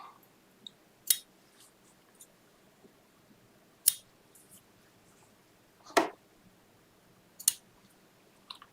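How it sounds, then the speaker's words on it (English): Scissors snip loose thread tails from wool appliqué pieces stitched down on a Bernina machine, four or five crisp, isolated cuts spaced a second or more apart against a quiet room. "Let me do some thread trimming real quick here."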